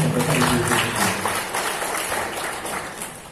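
Applause from students and guests at an anti-drug pledge event in Indonesia, a dense wash of clapping that gradually fades.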